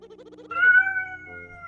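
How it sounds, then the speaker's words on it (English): A pet cat yowls loudly indoors, one long drawn-out meow rising over quieter game music and fading into a short tail. "Special guest, my cat."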